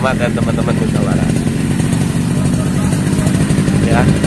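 A Yamaha RX King motorcycle engine runs steadily and close by, with a continuous buzzing throb under a voice.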